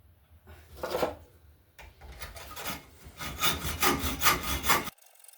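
A hand saw cuts a motorcycle exhaust pipe clamped in a vise, with a few tentative strokes followed by a run of rapid, rhythmic rasping back-and-forth strokes, close and fairly loud, stopping abruptly.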